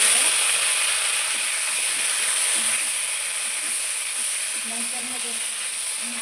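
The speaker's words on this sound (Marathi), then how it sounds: "आपल्याला वांगे असे थोडेसे भाजून घ्यायचे आहेत." Eggplant pieces frying in a little oil in a pan give a steady, close hiss and sizzle throughout, with a voice speaking briefly over it.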